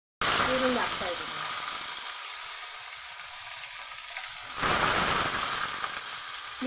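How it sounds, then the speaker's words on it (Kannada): Onions sizzle steadily in hot oil for a sambar tempering, a loud close frying hiss that swells briefly near the end, with no talk. "ಇದು ಒಗ್ಗರಣೆ ಹಾಕ್ತಾ ಇದ್ದೀವಿ ಸಾಂಬಾರಿಗೆ."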